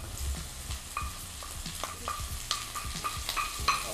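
Diced Swiss chard stems fry in a pan and are stirred, giving a steady soft sizzle broken by repeated scraping and clattering strokes from the stirring.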